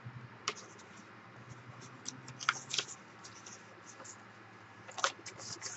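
Paper being ripped and cut with scissors for a journal, producing scattered close crackles, snips and tearing rasps at irregular intervals over a soft background.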